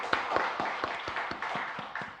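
Members of a Korean church congregation clap together during a Sunday worship service, a quick, even rhythm of soft claps repeating several times a second, faint and brief.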